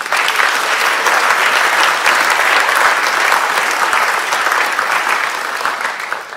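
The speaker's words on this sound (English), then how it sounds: "let's give everybody here and this proud legacy one more round of applause" A room full of people at a 50th anniversary gathering of organizing groups claps enthusiastically, a loud continuous wave of applause that holds steady for several seconds before thinning slightly at the end.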